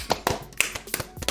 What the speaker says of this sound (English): Let's clap for her if you want to.